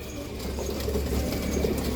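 Pigeons cooing in a loft, low soft coos repeating steadily under a continuous murmur of birds, fairly close, with occasional brief wing flutter and no talk.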